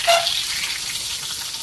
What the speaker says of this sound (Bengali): মাছটা যে হালকা করে ভাজি